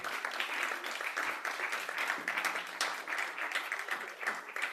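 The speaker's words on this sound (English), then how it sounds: "If we can give him another round of applause." Audience applause for Lucas at a clean energy and clean air talk series, a dense, steady wash of many hands clapping from a moderately distant crowd, sustained without a break and no one speaking over it.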